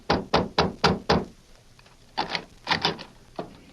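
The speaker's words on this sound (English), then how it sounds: "the marshal, with Flint and Dutch, knocked on the door of the youth's home." Knuckles rap on the front door of a house, first a quick run of five close, sharp knocks, then after a pause a looser second series of knocks, near and distinct with nothing else around them.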